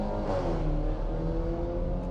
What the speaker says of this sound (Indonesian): Kedengeran nggak tuh suara knalpot tiba-tiba?